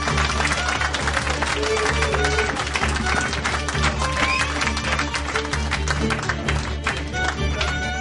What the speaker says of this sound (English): I'm expecting a huge surge of applause everywhere in the 5 control rooms